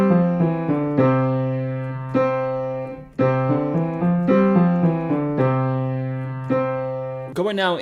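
A level 2 piano exercise played on its own, steady repeated chords in the left hand under a right-hand line, with clear note attacks roughly every second and a brief flourish at the end.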